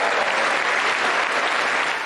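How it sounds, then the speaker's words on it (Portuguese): Members of Congress give a standing ovation during the State of the Union address, with dense, steady applause from a large chamber sustained at full volume throughout. "que se levantaram para aplaudir de pé"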